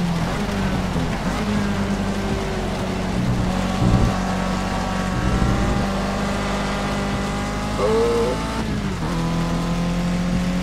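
Mini Club Cars race on a track, a continuous engine drone that rises and falls as cars pass, with brief louder swells and no talk.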